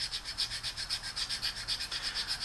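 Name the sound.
sanding brass smooth with a stone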